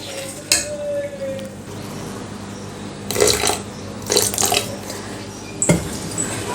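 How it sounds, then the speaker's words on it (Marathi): Water trickles and splashes into foxtail millet dosa batter in a home kitchen, in a few short bursts over a steady low background hum with no talk. "अगदी दोन चमचे पाणी घालायचं आहे"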